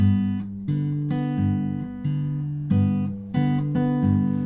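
Steel-string guitar fingerpicked in a steady pattern, a low alternating bass note under repeated treble notes, close and clear with no voices.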